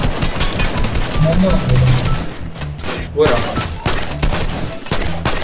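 Rapid bursts of gunfire in the Fortnite video game, sharp repeated shots and thuds under excited talk between players.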